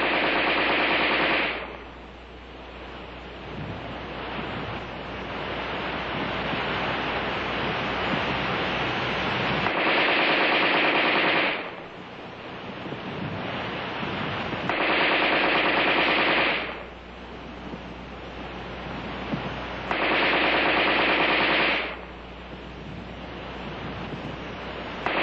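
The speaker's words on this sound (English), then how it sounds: "The preceding demonstration of rapid fire illustrated the use of preloaded" AR-10 rifle fired in automatic rapid-fire bursts, long loud roaring stretches of fire separated by brief pauses, repeated several times.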